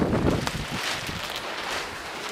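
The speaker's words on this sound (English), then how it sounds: "Wind's picking up again." Wind blowing outdoors during work on a 1991 Jetta turbo-diesel, a steady broadband rush with gusty buffeting across the microphone, loudest at the start and fairly even through the rest, with no talk.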